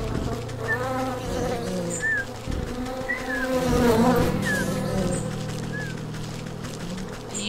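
Worker bees in the video game Wytchwood drone with a continuous close buzz, accompanied by soft chirping bird calls over the insect hum.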